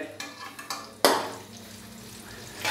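A few clanks of a utensil against a pot, then a soft sizzle of onions lightly frying with light stirring, fairly close, no voices.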